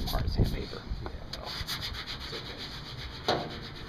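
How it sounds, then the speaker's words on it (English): Rough, rhythmic scratching of sandpaper rubbed back and forth by hand on a bus surface, close and steady. "I've been up here, kind of sanding"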